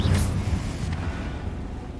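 A fiery Confringo spell blast in the Hogwarts Legacy video game lands as a deep, rumbling boom right at the start, then fades into a low, muffled roar over about two seconds, with no voices.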